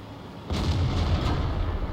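A tank shell slams off the turret of a Centurion tank in a tank video game, a single heavy booming impact that cuts in abruptly and leaves a sustained low rumble, loud and alone without talk.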